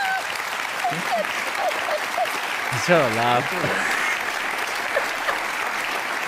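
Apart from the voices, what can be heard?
people clapping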